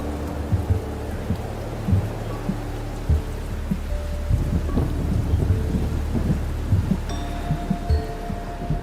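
Heavy rain pours down in a forest in strong wind, a dense steady wash of falling water with occasional low rumbles and knocks, loud and close, no voices.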